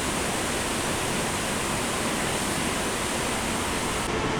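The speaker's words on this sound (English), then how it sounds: "The strainer drums will rotate periodically and water is sprayed over it to rinse out the sand." Rotating strainer drums at a sewage plant get a continuous water spray to rinse out sand, producing a steady, even hiss of spraying and splashing water with no breaks.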